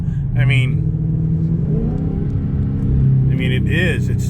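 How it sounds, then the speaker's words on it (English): Dodge car exhaust revving and accelerating, a loud mid-pitched engine note rising in two sweeps at close range, with a person talking over it. "hey, we're going to get a better exhaust note out of this thing"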